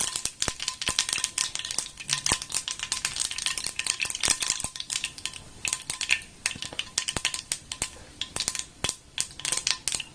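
Mustard seeds splutter in hot oil for a gooseberry pickle, giving a dense, irregular crackle of sharp pops and ticks alongside scraping stirs, close and continuous, with no voices.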